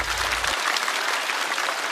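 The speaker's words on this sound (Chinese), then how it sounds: "掌声送给小帕。" Loud, dense applause from a television talk show studio audience, a steady wash of many hands clapping together that holds without a break from start to finish.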